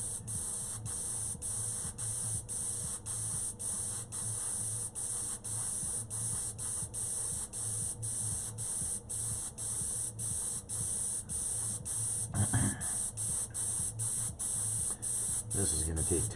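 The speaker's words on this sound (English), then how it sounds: "So the first thing I want to do is I want to spray this section down here" A spray paint can hisses in rapid short bursts onto a Roman soldier figure's shield emblem, a steady pulsing spray close by, with a brief clatter near the end.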